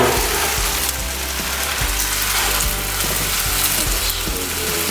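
Food sizzles and fries steadily on a hot griddle, a loud, dense crackle close by that runs throughout, with faint scraping of a utensil.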